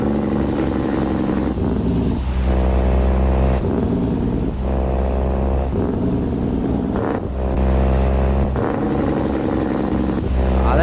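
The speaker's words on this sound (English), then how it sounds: "Yeah, the jake's not right on it." A truck engine brake in a truck simulator game, a loud steady diesel rumble broken into repeating rhythmic chugging bursts as the brake cycles, with no talk over it.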